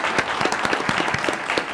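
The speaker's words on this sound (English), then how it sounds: "Another round of applause." Attendees at a school district board meeting give a short round of applause, a quick burst of many individual claps heard fairly close.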